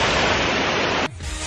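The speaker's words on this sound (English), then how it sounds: "That's the sound of the Trevi Fountain." Water of the Trevi Fountain in Rome rushes in a steady, dense hiss close by, then cuts to a quieter, more distant wash of flowing water.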